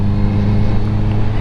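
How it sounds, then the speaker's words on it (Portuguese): Honda CBR 650R motorcycle fitted with an Akrapovic exhaust and a dB killer, its engine giving a steady, loud low droning hum with constant harmonics, heard close up and alone. "quanto o áudio do som da moto"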